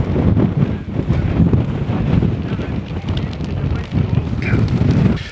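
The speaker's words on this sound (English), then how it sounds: "The wind is here already" Strong wind gusts roar and buffet a microphone on a beach at a speed sailing event, a loud steady rushing with fluctuating surges throughout.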